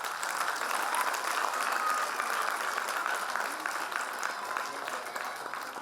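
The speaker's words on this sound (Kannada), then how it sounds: "ಒಂದು ಒಳ್ಳೆ ಚಪ್ಪಾಳೆ ಬರಲಿ." Steady applause from an audience at a school event for children, sustained and fairly even throughout, moderately loud with no voices standing out.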